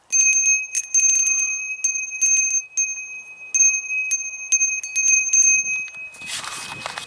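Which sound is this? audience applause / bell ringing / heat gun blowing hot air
bell ringing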